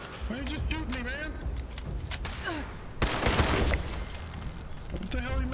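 Automatic gunfire from Fallout 76 rattles in a loud, dense burst around the middle, with game voices and robot chatter heard before and after.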